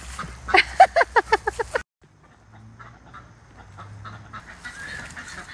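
Lavender Orpington hen on a farm giving a rapid run of about eight loud, close clucks, then quiet with faint background noise.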